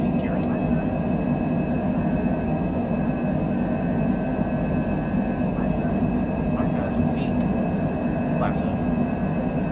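Steady, loud drone of a Cessna's engine and airflow through a takeoff climb in Microsoft Flight Simulator 2020, a continuous roar holding without break, with faint higher tones above and a voice calling out speeds over it.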